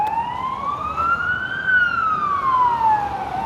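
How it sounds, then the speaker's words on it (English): A car siren wails, rising and then falling in pitch as it passes near Skaryszewski Park, over a steady rumble of traffic, fairly close and loud. "It's just a car with a siren."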